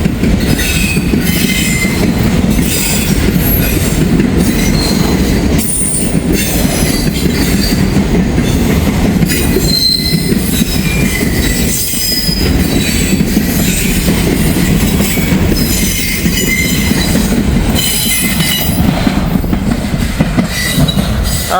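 A train hauling two heritage locomotive units rolls past close by, a loud steady rumble of wheels and cars with squealing wheels and clickety-clack over the rails throughout.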